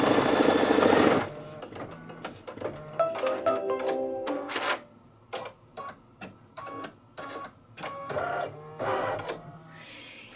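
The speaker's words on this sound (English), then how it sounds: "This is the tack down stitch." An embroidery machine stitches a tack-down line for a dachshund tote, first a dense continuous whir, then a run of short clattering bursts separated by brief pauses, close and loud with no voices.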